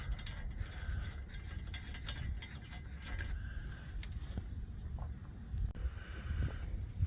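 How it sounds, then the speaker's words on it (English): A ratchet wrench works a nut off a Jeep Wrangler TJ steering stabilizer, with quiet, continuous clicking strokes and soft metal rubbing close by. "Now we'll go ahead and take this nut off."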